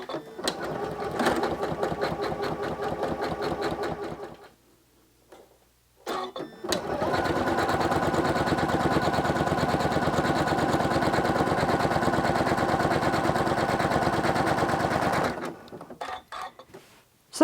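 Sewing machine quilting with a walking foot, running in short bursts of stitching, then a long steady close-up run of rapid rhythmic needle strokes before stopping.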